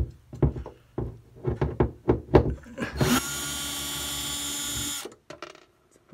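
A power drill unscrews screws from a wooden drawer: a string of knocks and clunks, then one steady whirring run of about two seconds, up close and loud.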